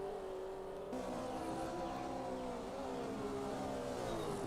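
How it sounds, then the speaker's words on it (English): Porsche 911 engine racing in the GT Legends classic sports car game, a steady high-pitched drone that climbs and shifts in pitch as it revs, continuous and fairly loud without a break. "that's a wonderful sounding engine in that Porsche there"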